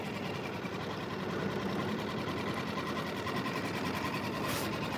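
A 2025 Suzuki 6HP outboard motor idles on a boat out on the water, a steady, close, buzzing drone with rapid even pulsing that holds level throughout, with no talking.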